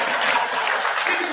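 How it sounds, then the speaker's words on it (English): Close, dense audience clapping at a lecture event on young scientists, a steady burst of many hands with no voices over it. "Clap if you want to clap"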